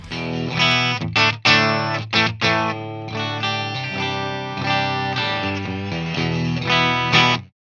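A Donner DTC-100 Telecaster-style electric guitar plays through an amplifier with a driven, slightly distorted tone, strumming chords and short riffs with a few brief pauses.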